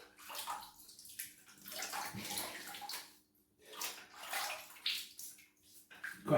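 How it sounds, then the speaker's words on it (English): Water splashes and runs in bursts while a face is wetted before a shave with a Gillette Skinguard Sensitive disposable razor, close and fairly loud, with short pauses between handfuls. "Okay, let's wet the face."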